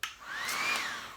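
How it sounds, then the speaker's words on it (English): Blow dryer running on its low setting, drying hair with a fine-tooth comb, a steady close airy whoosh with a whining tone that rises and dips, with no talk. "and of course I'm still putting it on low. I never use the high setting on this blow dryer."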